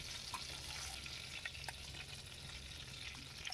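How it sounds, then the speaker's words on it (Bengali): Prawns sizzle and fry in hot oil in a pan for a Bengali prawn malai curry, a dense, steady crackling hiss with small pops and occasional stirring clicks, close and continuous, with no talk. "আর একইভাবে আমি সেকেন্ড ব্যাচ অফ চিংড়ি মাছগুলোকেও কিন্তু ভেজে নেব।"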